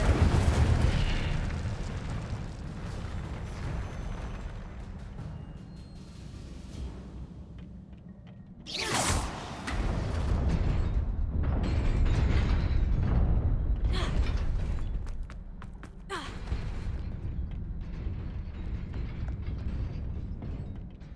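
Spell-casting blasts in Hogwarts Legacy, a sequence of sharp whooshing bursts and explosive booms with creaking, mechanical clatter between them, loud and spaced out over a rumbling game backdrop.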